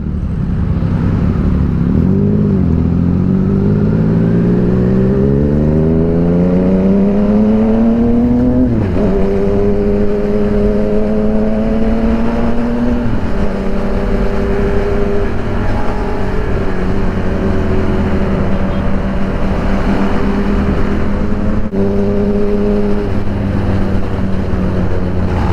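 A Yamaha Tracer 900 motorcycle engine revs loudly and close by, the pitch sweeping upward in long climbs before settling into a steady, throaty drone that runs alone the whole time.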